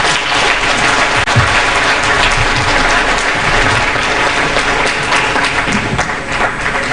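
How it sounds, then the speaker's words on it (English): An audience at an aviation investment forum gives loud, sustained applause, a dense, even roar of many hands clapping close by that carries on for the whole stretch. "Another warm round of applause for him."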